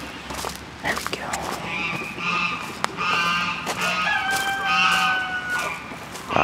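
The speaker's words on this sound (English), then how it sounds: "Lots of chickens." Chickens clucking and calling among other farm birds such as ducks, geese and a peacock, several squawks and honks overlapping near and at middle distance over a busy outdoor background.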